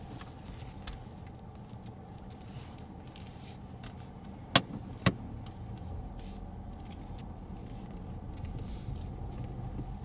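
A car pulls away on a mock driving test at Lee-on-the-Solent, its engine a steady low hum with road rumble throughout, broken by a couple of sharp clicks near the middle.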